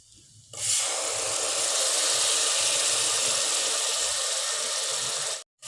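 Tomatoes hitting a pan of frying dry spices set off a sudden loud, steady sizzle that holds evenly for several seconds before cutting out near the end.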